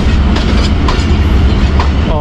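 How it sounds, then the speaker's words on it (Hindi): Train pulling out of Qila Sheikhupura Junction heard from inside a crowded coach, a loud continuous rumble with rhythmic clickety-clack of wheels over rail joints. "ट्रेन अब किला शेखुपुरा जंक्शन को अलविदा कह रही है"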